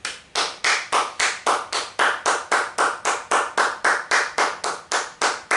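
One person claps alone in a slow, even rhythm, about twenty sharp, close claps spaced roughly a quarter second apart, each ringing briefly in a quiet room with no talking.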